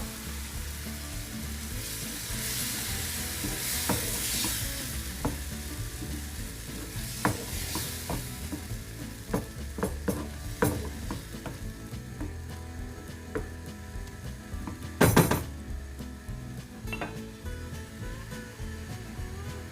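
Grated tomatoes and tomato paste sizzling and frying steadily in a pan, with scattered scraping stir clicks and one louder clatter of a utensil partway through, close and continuous with no talk.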